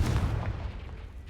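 A Confringo fire spell explodes in Hogwarts Legacy during a Merlin Trial, one deep booming blast at the start that rumbles and fades over about a second.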